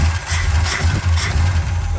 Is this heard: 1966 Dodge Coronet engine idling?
yes